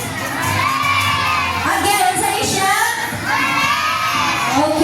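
A crowd of children shouting and cheering together in one sustained, loud burst at an event, their voices overlapping without a break.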